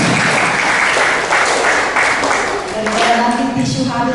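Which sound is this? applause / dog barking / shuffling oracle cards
applause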